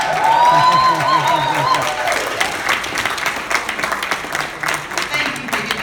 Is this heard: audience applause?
yes